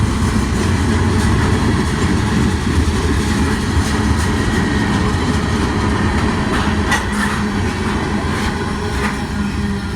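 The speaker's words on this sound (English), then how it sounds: "The symbol on that train was Norfolk Southern 310." Norfolk Southern freight train passing in the evening, led by an ACU locomotive, a loud continuous rumbling roar with faint wheel clatter throughout, close by and steady.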